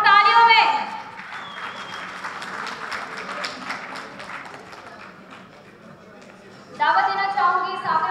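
Audience applause for certificate recipients at a university ceremony in Quetta: steady, moderate clapping from a crowd, framed by a voice at the start and end.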